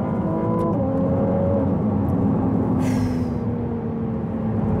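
Ferrari 296 GTB engine holding a loud, steady drone with slowly shifting harmonic tones during a test drive, heard continuously from inside the car with no talking.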